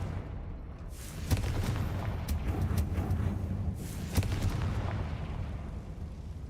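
Explosive blasts from the Confringo spell in the video game Hogwarts Legacy, a few sharp booms and cracks over a rumbling, crackling bed of fiery noise, fairly loud and continuous.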